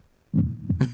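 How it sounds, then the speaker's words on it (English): A short thumping heartbeat sound effect, two soft low thuds followed by a brief brighter burst, close and fairly loud, with no talk over it. "So this is what his heartbeat sound like."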